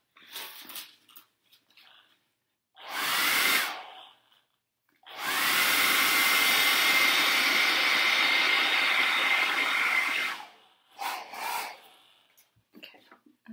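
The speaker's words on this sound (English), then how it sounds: "you can take the blow dryer again and kind of heat it up" A blow dryer heats sculpting clay in two close, loud bursts of airy whoosh, a short one and then a longer steady blast of about five seconds, separated by quiet handling noises.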